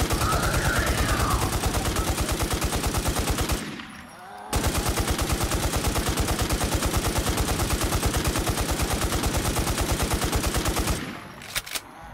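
Rapid, steady automatic gunfire pours into a super zombie in the survival game Infestation: The New Z, two long continuous bursts of evenly spaced shots, loud and close, separated by a short pause.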